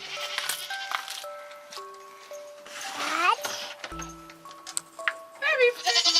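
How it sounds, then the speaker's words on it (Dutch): A young goat bleats several times in a farm pen, close and fairly loud, its wavering cries mixed with other sheep or goat calls and a voice nearby. "Geitje daar."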